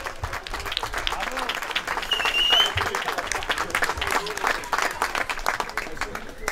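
Outdoor crowd applauds the men's winner receiving a cup at a road race prize ceremony, dense clapping held for several seconds with voices and cheers mixed in.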